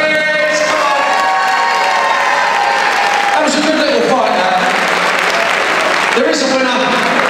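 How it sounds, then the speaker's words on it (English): Loud applause and cheering fill a boxing event hall, a dense continuous roar of clapping with whoops throughout, while an announcer's amplified voice speaks over the crowd. "a big round of applause for both boxers, please"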